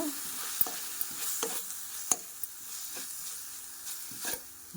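Curry leaves fry in hot oil for a cashew and makhana curry, giving a soft sizzle broken by a few sharp scrapes and clicks of a spoon stirring the pan.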